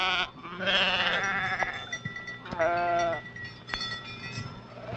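Sheep in a Navajo flock bleat repeatedly, several wavering calls overlapping close by, with brief pauses between them and a faint outdoor background.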